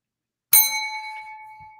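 A single bright bell ding strikes sharply and rings out cleanly, decaying slowly in otherwise total silence.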